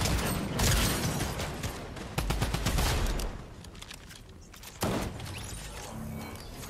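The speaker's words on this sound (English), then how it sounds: "they're shooting over here" Bursts of video game gunfire crackle through a shooter match, sharp volleys and rapid shots clustered early, then thinning to scattered reports with a loud crack near the end, heard without speech.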